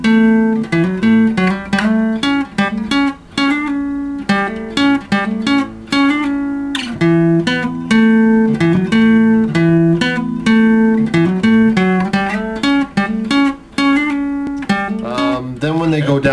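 Acoustic guitar plays a longer riff, close and bright, with rapid repeated strums and picked notes in a steady, unbroken rhythm and no voice over it.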